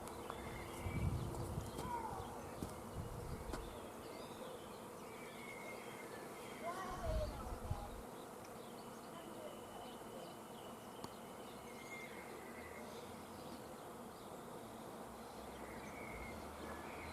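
A large swarm of bees buzzing outdoors, a steady droning hum of many insects with individual bees passing closer now and then, fairly faint and continuous throughout.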